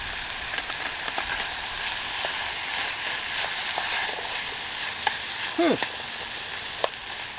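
Vegetables including zucchini stir-fried outdoors in a Trangia 27 pot used as a wok give a steady close sizzle, with occasional clinks of the utensil and a short scraping sweep near the end.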